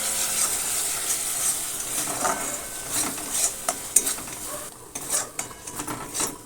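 Vegetables being stirred with a utensil in a pan along with chilli powder and turmeric in oil for a winter vegetable khichuri, scraping and clinking close up over a light sizzle, with no talk.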